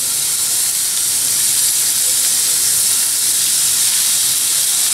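Minced garlic sizzling in hot sesame oil in a pan, a steady bright hiss that stays even and close for the whole stretch, with no talking.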